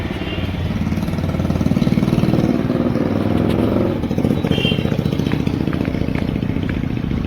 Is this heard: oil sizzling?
no